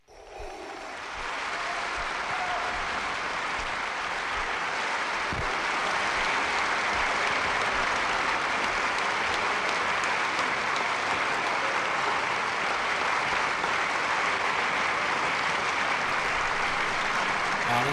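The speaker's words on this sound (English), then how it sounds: "give him a round of applause." A live audience breaks into a sustained round of applause that swells within the first second or two, then holds as a thick, even roar of clapping for the rest of the stretch.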